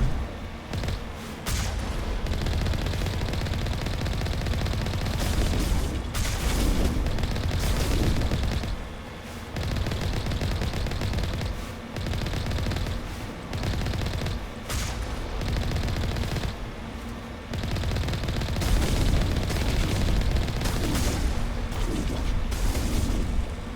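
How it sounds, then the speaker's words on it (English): Sustained gunfire from a Mass Effect shootout, with bursts of rapid weapon fire and booming impacts filling nearly the whole stretch, broken by a few short lulls, loud and continuous with no talk. "They're not particularly good at shooting me, but then again, I'm not particularly good at shooting them either."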